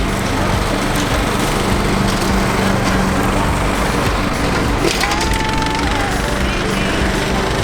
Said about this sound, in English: he's mowing the field because